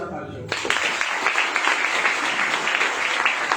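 An audience breaks into loud, sustained applause at an indoor gathering, a dense clatter of many hands that begins abruptly after a brief spoken moment and continues steadily.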